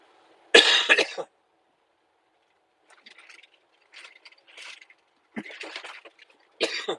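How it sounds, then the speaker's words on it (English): A person coughs in a quiet car on a road trip toward Denver, giving one harsh loud burst followed by several softer, scattered coughs and throat clears with silent gaps between them. "Sorry for the coughing"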